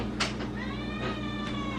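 A cat meows softly twice, with a brief clatter between, over a steady low hum; no one talks.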